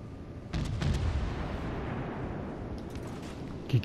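Distant naval gunfire in World of Warships: Legends around a French tier 5 premium cruiser: a heavy boom at the start, a long rumbling tail, then fainter thuds.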